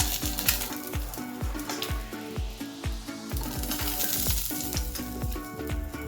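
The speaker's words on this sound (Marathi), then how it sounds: "अंडा आपलं हाफ फ्राय झालं की आपण बघू, चेक करू त्याला।" An egg half-frying in a little oil in a pan, heard as a steady loud sizzle with repeated crackling pops and spatters, close up, no talk.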